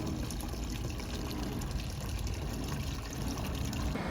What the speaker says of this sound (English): I set up my cleanup sluice and I'll just run that through quick to reduce it further